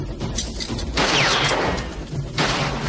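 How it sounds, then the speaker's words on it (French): Gunfire rings out in a 1980s action film fight scene as a golden ninja tries to shoot a shotgun, loud bursts of blasts with a whizzing streak over a constant roar of soundtrack. "le ninja doré essaye de sortir un shotgun et de tirer sur Joe Armstrong"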